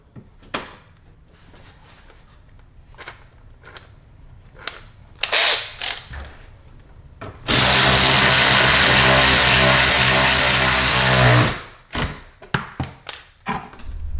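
A power tool driving in a 7mm bolt on a Corvette, starting with scattered clicks and clunks of handling, then a loud steady mechanical whir for about four seconds, followed by more clatter.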